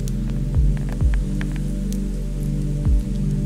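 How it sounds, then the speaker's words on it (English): Light autumn rain starts to fall in UK woodland, with sparse raindrop ticks over a steady low hum and a few deep throbbing thuds. "the rain has just started to fall"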